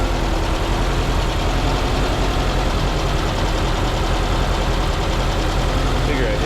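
A 1981 VW Vanagon engine idling fast at 1200 RPM, a steady, loud, even drone with a low rumble throughout, unchanging for the whole stretch and with no voices.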